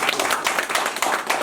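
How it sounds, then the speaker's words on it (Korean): Audience members at a community council meeting clap together, a brief, lively patter of many hands in a room, steady and fairly loud throughout. "자, 한 번 더 박수 쳐주십시오."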